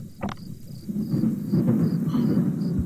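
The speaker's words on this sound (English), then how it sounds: "Oh no, it's raining." In a video game, a deep rumble of thunder rolls beneath steady rain, with a brief sharp crack near the start; the storm sounds continuous and fairly loud.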